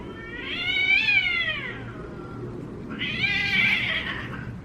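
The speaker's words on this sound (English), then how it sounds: "It was two cats screaming." Two cats scream outdoors at night in drawn-out, wavering yowls, one long cry followed by another after a short pause, fairly loud and with no voices.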